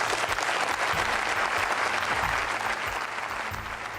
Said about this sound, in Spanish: Los miembros del Bundestag lo aplaudieron de pie.